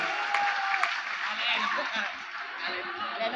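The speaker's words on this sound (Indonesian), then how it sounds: "Tepuk tangan untuk Kiai Holil Yasin." An audience at a religious gathering or debate claps, light scattered applause mixed with crowd chatter and a voice talking over it.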